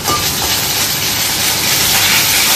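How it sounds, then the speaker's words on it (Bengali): Ginger hits hot mustard oil and spatters, making a loud, steady, close hiss that stays dense from start to end, with no voices. "সর্ষের তেলে মা একটু আদা ফোড়ন দিচ্ছে। বাবারে কি ছিটান ছিটছে"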